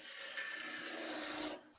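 A sharp gouge cuts wood on a lathe spinning at about 1500 RPM while a turner's mallet is being shaped. A steady, fairly close rasping scrape runs for about a second and a half, grows a little louder near the end, then stops.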